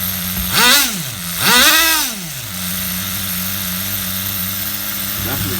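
An HPI RS4 nitro RC F150 pickup truck engine, running on 16% nitro fuel, revs up twice in sharp rising-and-falling bursts, then settles into a steady, buzzy high-pitched idle close by.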